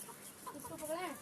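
A big rooster gives short, agitated clucks while being caught, close and fairly faint over a noisy outdoor background.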